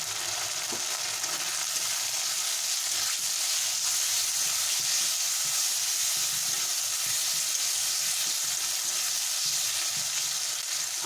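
Sliced tomato frying with browned onions in a pan for a fish roe curry, giving a steady, close sizzle that runs the whole time with faint stirring scrapes and no talk.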